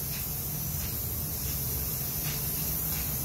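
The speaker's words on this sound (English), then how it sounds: "Lot of hairspray." Hairspray sprayed onto a heated glass 3D printer bed, a continuous close aerosol hiss held steady for the full few seconds without pause.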